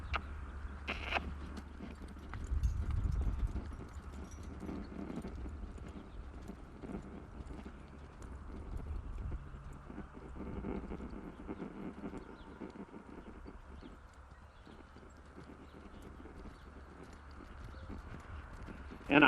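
A horse canters in an arena during lead-change training, its hooves striking in a steady rhythmic clip-clop with soft breathing and movement around it.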